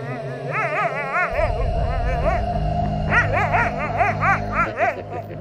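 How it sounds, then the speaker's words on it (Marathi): Dogs at night wail and bark loudly in a repeated, rising-and-falling series of yelping howls, close and insistent over a low steady background rumble. "तोच खाली असलेली कुत्री अचानकच जोरजोरात विव्हळू लागली."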